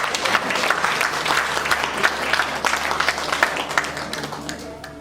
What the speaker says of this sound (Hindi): मैं चाहूंगा कि मदन सर के लिए बिल्कुल जोरदार तालियां हो